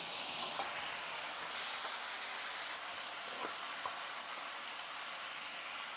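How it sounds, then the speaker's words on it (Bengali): Pumpkin pieces fry in hot oil for a spicy Bengali pumpkin dish, giving a dense, steady sizzle with faint stirring taps. The sound is close and continuous, with no talking. "ওই তেলেই দিয়ে দিচ্ছি কুমড়ো। কুমড়ো কটাকে আলুর মতন একটু করে কষিয়ে নেব ভালো করে।"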